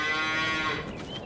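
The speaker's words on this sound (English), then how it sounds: "Some happy cows there, which is what we want to see." Holstein dairy cattle mooing on an Iowa farm in Farming Simulator 22, one long, loud, close low bellow that fades at the end.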